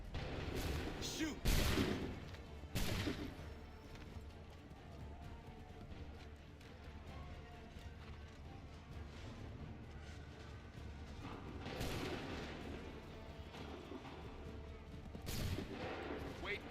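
Musket volleys crack out in Assassin's Creed III, several loud bursts of gunfire with booming echoes spaced apart over a steady battlefield din, with voices shouting beneath.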